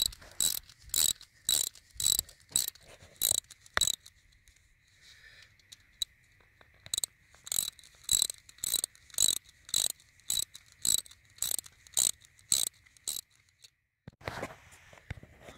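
A ratchet wrench tightening guy cable clips evenly on a wind tower, in fast rhythmic bursts of metallic clicking with a short pause partway through, close and loud outdoors.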